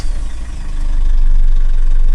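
A heavy diesel engine of a new Mitsubishi Fuso Canter light truck, about 3000cc, turns over and settles into a steady, loud, rumbling idle.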